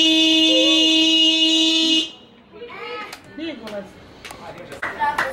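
A steady, loud horn blares continuously for about two seconds, then cuts off, followed by scattered people talking and background noise.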